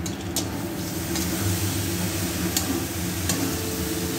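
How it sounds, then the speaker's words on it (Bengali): Banana flower curry is stirred in a pan with ghee and garam masala, a soft continuous sizzle broken by a few sharp scraping and tapping clicks of the spoon against the pan, with a low hum underneath. "এখন নেড়ে নেব।"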